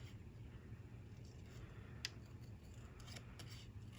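Scissors snip through cardstock while a handmade greeting card is trimmed, giving soft, sparse clicks and cuts over a low steady hum, faint and close.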